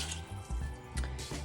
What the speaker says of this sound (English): I'm now going to add 3 quarts of beef stock to the mixture